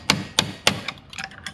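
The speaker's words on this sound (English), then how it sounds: "I take this hammer and a punch and I just drive it out." Hammer striking a punch to drive a pin out of a trolling motor: three sharp metallic taps at an even pace, then several lighter, quicker taps, close and alone.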